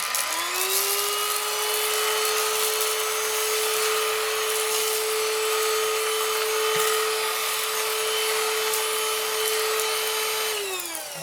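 Greenote GSC40 cordless stick vacuum running on low suction, a steady close motor whine that spins up at the start and holds an even pitch for about ten seconds before winding down, with no voices.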